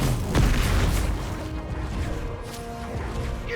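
A blasting spell goes off in a Hogwarts Legacy battle, opening with a heavy booming crash that rumbles and decays into a lingering debris-filled tail.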